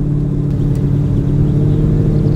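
A 1969 Maserati Ghibli 4.7 V8 engine runs with a deep, steady, loud rumble heard up close and alone.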